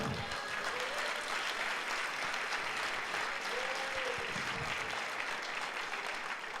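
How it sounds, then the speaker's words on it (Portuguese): Sustained applause from a church crowd, a dense steady patter of clapping throughout with a faint voice briefly rising through it. "Dê um aplauso ao Senhor."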